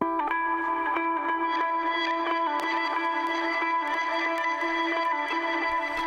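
An electric guitar riff runs through a Guitar Rig preset with reverse delay and reverb, giving smeared, swelling notes that blur into a continuous washed tail at steady loudness.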